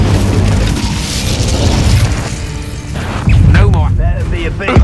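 Incendio fire spell going off in Hogwarts Legacy combat, a booming blast with crackling roar amid busy battle sounds, followed by a second heavier burst near the end.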